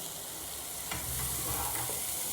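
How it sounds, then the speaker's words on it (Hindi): Chicken and mixed vegetables fry and sizzle in a pan for an omelette, with a steady hiss and a few scraping stirs partway through, no voices. "अब मैं सारी वेजिटेबल और चिकन डाल दूँगी और 2 से 3 मिनट के लिए इसे फ्राई करूँगी।"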